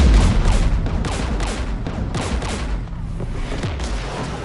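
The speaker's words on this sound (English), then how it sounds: "We're taking fire." A loud, sustained barrage of gunfire and booming blasts in the Mass Effect Legendary Edition video game rolls on without a break, thick and close, with heavy low rumble.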